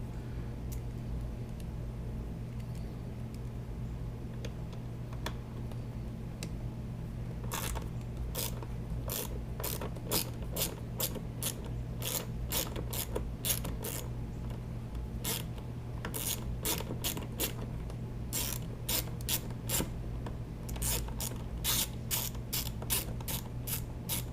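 A hand ratchet works a Torx 20 screw on the hand lever of a Road Glide motorcycle: first a few scattered clicks, then long runs of close, sharp ratcheting clicks in quick bursts over a low steady hum.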